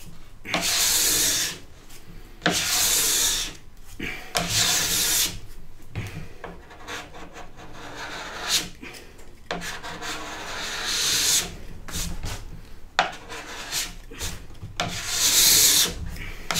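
A snowboard base being scraped of leftover wax, with repeated long, rasping strokes in a steady rhythm, loud and close, with brief pauses between passes.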